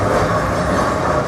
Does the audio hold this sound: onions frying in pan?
no